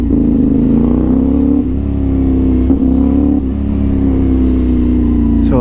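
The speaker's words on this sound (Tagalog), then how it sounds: "yung tunog ng pipe" A CFMOTO 450NK motorcycle fitted with an Orion exhaust, close and loud, its engine revving with a deep throbbing note that rises and dips over a few seconds.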